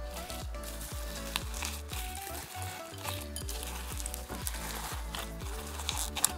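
Glossy kawaii slime mixed with foam beads and sprinkles gives a steady, close-up sticky crackle and squish that runs throughout.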